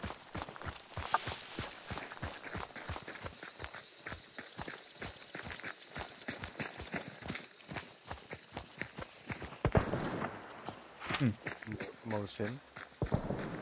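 Horse hooves clip-clop in a rhythmic, steady series in the Hunt: Showdown video game, moderately close, while players talk over them and gunfire cuts in near the end.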